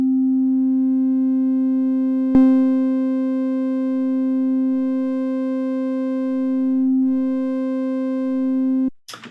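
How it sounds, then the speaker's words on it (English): A steady, buzzy saturated synth tone with even harmonics holds one low pitch, its bright overtones filling in, then cuts off abruptly near the end. "you're going to start hearing even harmonics start coming through"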